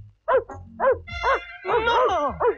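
In a scene from a Hindi comedy film, a dog gives about six short, close barks in an uneven burst, with one longer, whining bark near the end.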